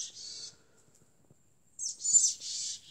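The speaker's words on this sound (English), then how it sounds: "Birds sitting in the trees, chirping to each other" Birds chirping up in trees, with one short burst of high calls at the start and a louder, busier run of chirps near the end, separated by a quiet gap.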